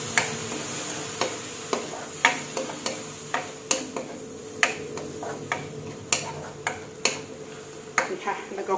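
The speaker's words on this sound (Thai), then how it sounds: "แล้วก็คั่วไปเรื่อยๆค่ะเห็นมันเครื่องเทศเข้ามีกลิ่นหอมขึ้นมาค่ะ" Curry spices and herbs stir-fried in a pan for a Thai glass-noodle chicken curry, a spatula scraping and clicking against the metal in a steady rhythm of sharp ticks over a soft background sizzle.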